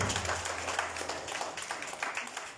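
An audience at a commemorative gathering applauds a speaker's presentation with brisk, continuous clapping at moderate volume. A low hum sits underneath at the start.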